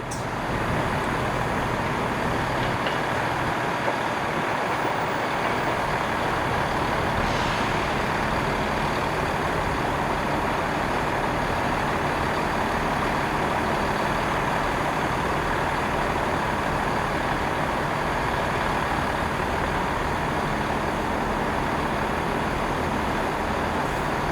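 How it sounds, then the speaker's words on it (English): A Class 68 diesel locomotive departing London Marylebone station, its steady engine roar continuous and fairly loud throughout, a heavy rumbling drone that holds without pause. "that Class 68 departing was awesome"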